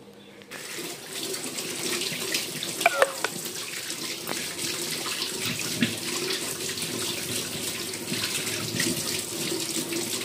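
Tap water pours steadily into a kitchen sink while a ridge gourd is washed under it, with a few brief knocks and splashes against the basin and no talk.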